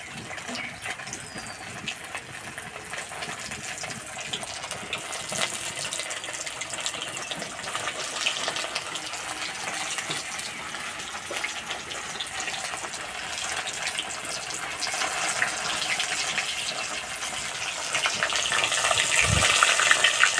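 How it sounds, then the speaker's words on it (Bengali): Fish pieces coated in red lentil (masoor dal) paste fry slowly in a wok, giving a long, even sizzle with no talk that grows a little louder toward the end. "একটু সময় ধরে আস্তে আস্তে ভেজে নিতে হবে তাহলে ভিতর পর্যন্ত খুব সুন্দর ভাজা হবে"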